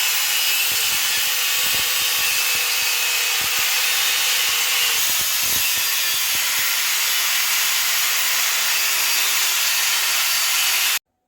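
A pipe is sawn to length by hand for a toilet installation, the cutting strokes running steadily and loud for about eleven seconds, with a few sharper knocks scattered through.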